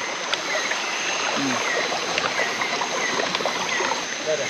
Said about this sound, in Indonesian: Air murni langsung dari alam. Mata airnya.